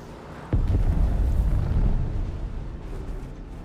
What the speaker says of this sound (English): that was a spice explosion